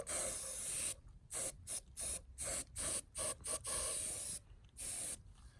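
Short bursts of aerosol spray hiss onto a wick for a lemon Molotov, a rapid series of close, loud sprays separated by brief pauses, with a longer blast near the end.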